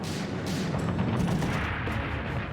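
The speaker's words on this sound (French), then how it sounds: "Elles sont immédiatement prises à partie par un feu nourri." Heavy gunfire and artillery from a World War II battle at Vaagso, Norway, a dense, loud, continuous rumble of shots and booms blending into a sustained roar without any speech.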